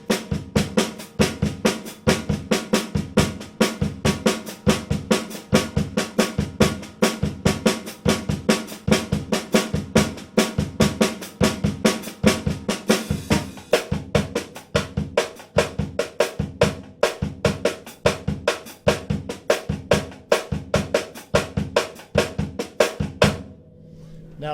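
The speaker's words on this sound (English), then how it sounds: "If you put that all on the snare, with the main accents being in the right hand" Brazilian samba pattern played on a snare drum with the main accents in the right hand, a steady fast stream of close, crisp strokes with a regular accented pulse, alone throughout before stopping abruptly.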